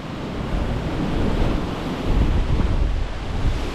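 Ocean waves crash and splash over a rock ledge on the South Coast, a loud continuous roar of surf mixed with gusty wind buffeting the microphone.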